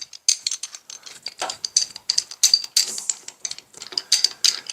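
A pipe wrench works on an antique Fuller fire extinguisher, giving close, uneven metallic clicks and ratcheting scrapes in a quick irregular series.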